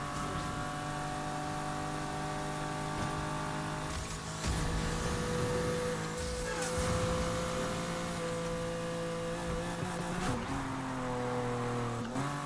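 A car's racing engine in the Need for Speed Heat video game, a BMW M2 chasing an AMG GT while escaping police, drones loudly and continuously with steady engine tones that shift in pitch as it accelerates.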